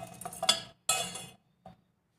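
A spoon scraping and clinking against a small metal pot while sweetened grated mango is transferred into it, a few close, distinct metallic scrapes separated by short silences, no voices.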